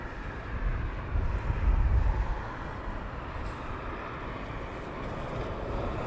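An Airbus A380 airliner at Heathrow Airport gives a broad, distant jet roar that swells to a peak early on, then settles into a steady rumbling wash with no talk.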